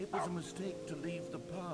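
Cartoonish dog barks and yips from the dog mode of The Stanley Parable: Ultra Deluxe, several quick bursts sounding close, layered under continuous narration and someone talking.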